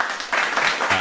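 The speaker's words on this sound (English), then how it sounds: "I just wanted to play a fucking round of applause." A brief round-of-applause sound effect, a dense wash of clapping that swells after a moment and holds steady for about a second.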